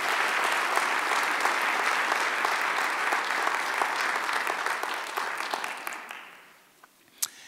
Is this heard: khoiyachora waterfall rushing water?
no